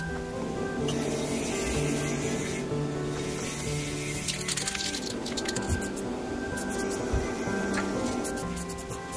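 Penetrating oil sprayed onto a car shock absorber during a home shock replacement, giving steady hissing spray bursts with squishy, wet rubbing noises, close and continuous with no talking.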